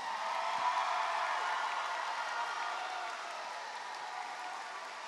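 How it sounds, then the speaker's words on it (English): An audience at a 2025 high school graduation ceremony for Lincoln-West High School of Science and Health applauds steadily, a dense wash of clapping that slowly tapers off. "Let's give our 2025 graduates another round of applause."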